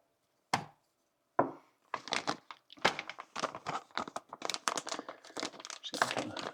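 Plastic parts bags from an MD RD 01 trophy truck RC kit being torn open and crinkled, starting with two sharp rips and then a busy run of rustling, crackling plastic handling close by.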